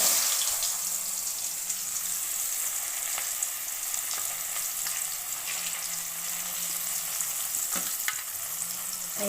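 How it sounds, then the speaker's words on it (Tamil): Onion sizzles and crackles steadily in hot oil with mustard seeds for potato poriyal, a close, continuous hiss with a faint low hum beneath and occasional stirring ticks, and no talking. "இப்போ நம்ம ஒரு பெரிய சைஸ் ஆனியனை கட் பண்ணி அதோட சேர்த்துக்கலாம்"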